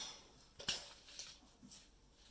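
Metal teaspoon clinks and scrapes against a container while scooping borax powder, a few light, close taps with one sharper clink, fairly quiet.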